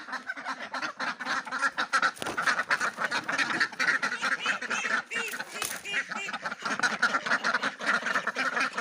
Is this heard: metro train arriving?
no